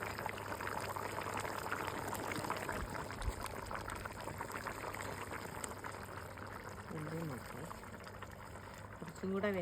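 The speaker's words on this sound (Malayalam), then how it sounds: "തിളച്ചുകൊണ്ടിരിക്കുകയാണ് കറി കേട്ടോ." Curry bubbling and simmering in a pot, a steady, close, broadband boil with soft popping that runs the whole time, and brief voices in the background.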